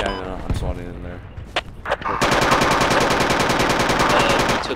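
Gunfire in the video game Project Reality during a Falklands assault on Goose Green: a few scattered shots, then loud, sustained rapid automatic fire with crackling bursts, with voices talking over the battle.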